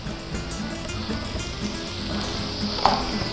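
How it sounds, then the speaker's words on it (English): Vizcaya sautés in a pan for Mexican chiles en nogada, giving a steady, close sizzle with a light clink of a utensil near the end. "So we add the Vizcaya, just about 5 minutes, sauteing for 5 minutes."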